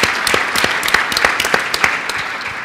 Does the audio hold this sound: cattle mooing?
no